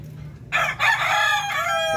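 A Darag native rooster crows once from about halfway in, a loud, close, drawn-out call with a steady low hum from the pen behind it and no talking.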